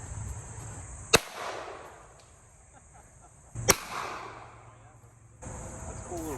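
A .45 Derringer pistol fired twice at an outdoor shooting range, each shot a sharp close crack with a short decaying tail, spaced about two and a half seconds apart amid background noise.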